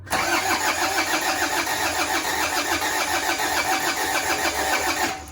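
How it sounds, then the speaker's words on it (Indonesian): A Panther car engine cranks and catches, then runs loud and steady up close with a dense, rumbling roar. "Kita starter mobil ini"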